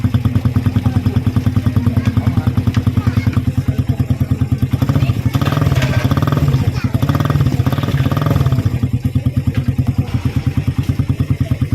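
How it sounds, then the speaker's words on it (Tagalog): A Suzuki Raider 150 motorcycle idles up close with its catalytic converter removed from the exhaust canister. It gives a loud, rapid, lumpy putter, and the throttle is blipped a few times in the middle. "tambutso na natanggalan ng catalytic"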